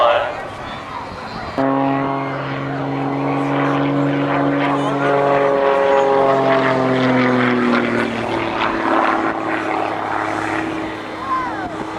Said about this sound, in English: That 3-bladed prop on the front end of that very lightweight Phoenix 300L made out of all composite material, doing an 8-sided or octagon loop.